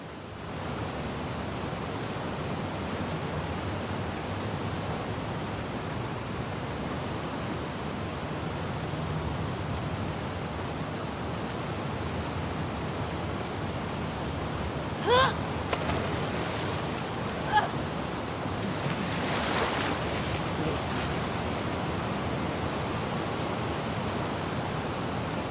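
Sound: rushing water waves in a sewer, from the video game The Last of Us Part 2

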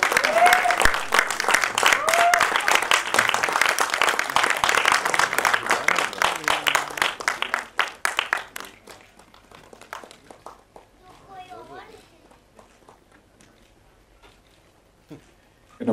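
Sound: audience applause at film trailer launch

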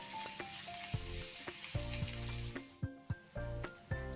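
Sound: frying chopped onions until golden

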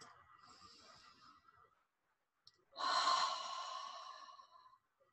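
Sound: slow relaxed breathing

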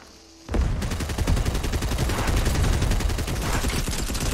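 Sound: gunfire in the video game Fortnite

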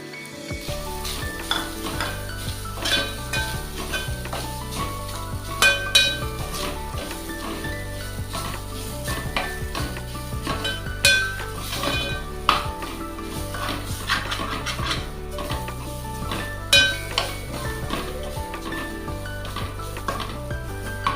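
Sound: ghee melting and grated coconut being stirred and roasted in pan

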